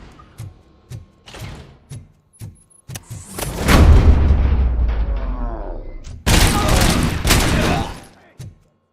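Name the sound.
gunfire in a video game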